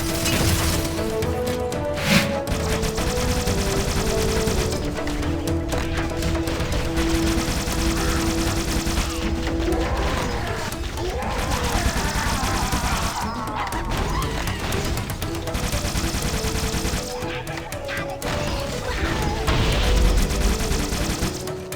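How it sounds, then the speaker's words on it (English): The Halo Needler fires bursts of pink needles that explode, producing loud, dense rapid-fire crackling with layered electronic whines and blasts amid busy game-battle noise, continuous throughout. "This weapon will produce a pink explosion if a small number of needles are fired upon the opponent"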